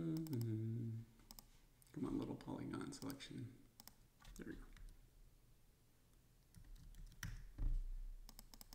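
Soft clusters of keyboard clicks from typing, interspersed with a person talking quietly nearby.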